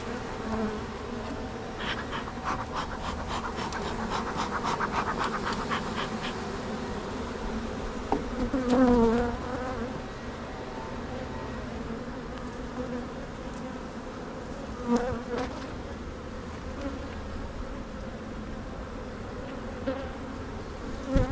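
Honey bees drone in a continuous dense buzz around an open hive and frames of drawn comb, close and steady, with individual bees zipping past now and then.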